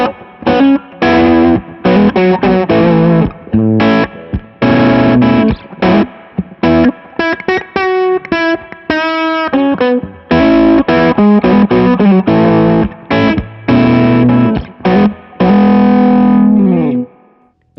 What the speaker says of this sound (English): adding more gain, more saturation to the same tone,